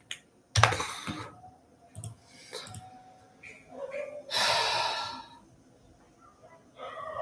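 Bursts of typing on a computer keyboard while coding a programming problem, clicky key presses coming in uneven clusters separated by pauses and breathy sounds.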